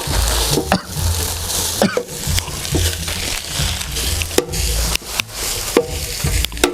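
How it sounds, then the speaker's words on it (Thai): Rice is stir-fried in a pan with repeated scraping and tossing strokes over a low background rumble, loud and close, the spatula hitting the pan in an irregular rhythm. "ผัดข้าวไปเรื่อย ๆ"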